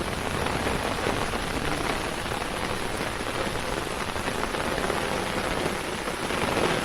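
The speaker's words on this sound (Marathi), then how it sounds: "बघा किती पाऊस लागला" Heavy monsoon rain pours down steadily, a dense, even hiss of drops hitting surfaces with no pauses.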